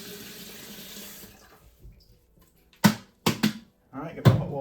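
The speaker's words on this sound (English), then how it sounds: "get the hot water going" Hot water from a tap runs into a cup for making coffee, heard in a faint stream followed by a few loud, short splashes and bursts near the microphone.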